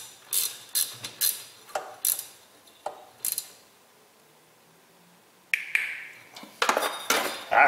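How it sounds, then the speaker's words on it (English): A torque wrench clicks on bolts of a Jeep 4.0 engine, a series of sharp metallic ratchet clicks and snaps in bursts, a pause of about two seconds, then more clicks close by. "We'll torque these to factory spec."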